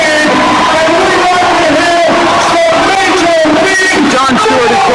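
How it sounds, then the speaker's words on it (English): Loud basketball arena crowd at the 1991 championship game roaring and yelling continuously, a dense wall of cheers and whoops with shouting voices rising and falling throughout. "Listen to this crowd."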